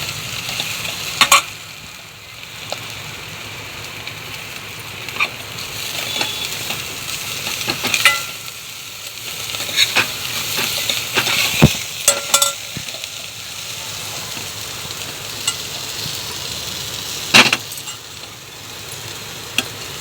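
Masala for sambhar sautés in a pan, a continuous sizzle broken by repeated scraping and clinking of a spoon against the vessel, close and without talk.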